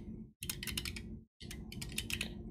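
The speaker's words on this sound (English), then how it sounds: "I just start typing" Rapid clicking on a computer keyboard while coding, close and quiet. Two bursts of keystrokes are separated by brief pauses of silence.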